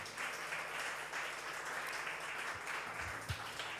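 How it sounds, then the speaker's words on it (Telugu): A church congregation claps steadily together in praise, a dense, continuous wash of many hands at moderate loudness with no words spoken over it. "నమ్ముతున్న వారు గట్టిగా చప్పట్లు కొట్టి ప్రభుకు మహిమ చెల్లిద్దాం"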